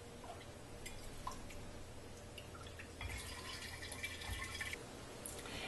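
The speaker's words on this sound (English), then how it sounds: "we're going to go ahead and pour it into our jars." Milk is poured into jars for making yogurt, heard as a faint, quiet trickle and fill, with a brighter stream of liquid in the middle and soft clinks around it.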